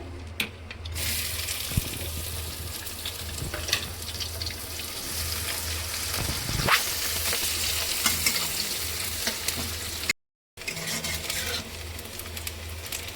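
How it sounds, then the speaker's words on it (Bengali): Chopped onion fries in hot oil with whole cinnamon, cloves and cardamom, hissing and crackling loudly and steadily, with scraping stirs now and then and one brief drop to silence near the end. "একটু ভালো করে ভাজা ভাজা হচ্ছে বন্ধুরা"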